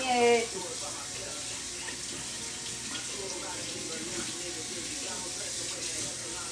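Tap water running steadily over tie-dyed fabric being rinsed, a continuous hissing splash at close range, with faint music playing underneath.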